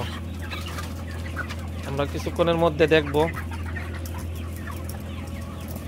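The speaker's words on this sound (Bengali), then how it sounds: "আজকে আমরা যদি আপনাদেরকে দেখাই মুরগিগুলোকে, আলহামদুলিল্লাহ মুরগি কিন্তু দেখতে অনেক সুন্দর" Chickens in a climate-controlled poultry shed cluck in a short burst of several calls over a constant low fan hum, while someone talks nearby.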